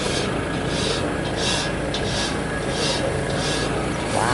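Steel file rasping across the teeth of a sawmill blade in repeated strokes with a steady rhythm, fairly loud and close, with no talk over it.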